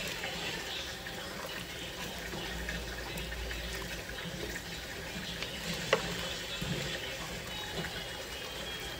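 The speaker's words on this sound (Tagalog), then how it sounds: "Tapos lagyan natin ng tubig." Water pours steadily into a cooking pot for a Filipino bopis dish, a soft continuous gushing fill heard close with a small clunk partway through.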